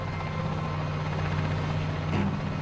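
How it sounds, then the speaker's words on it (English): A helicopter engine and rotors drone steadily and loudly as the aircraft takes off near Pripyat, a continuous low thrumming roar with no talking over it. "a helicopter is taking off on a special mission."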